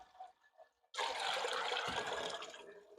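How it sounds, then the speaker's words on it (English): Water pours steadily into a cooking pot for a meatball soup, a sudden loud rushing splash that starts after a brief quiet moment and continues alone, close and full, tapering slightly at the end. "I'm going to add water to my pot."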